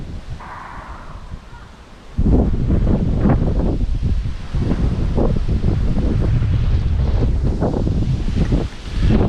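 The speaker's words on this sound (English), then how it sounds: "you're not going to hear me with this wind, are you?" Strong gusty wind buffets the microphone in loud, rumbling bursts at a campsite in the Derbyshire Dales, with rustling in the background and no voices.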